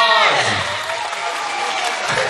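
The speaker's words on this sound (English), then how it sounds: "A round of applause." A crowd at an abacus mental arithmetic olympiad in Singapore applauds prize winners with steady, dense clapping that fills the room throughout, loud and continuous.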